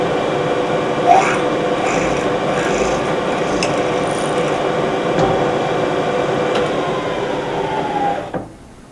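A steady grinding, rasping mechanical drone runs continuously as a drill peck-drills a hole through metal with cutting fluid, ending abruptly near the finish.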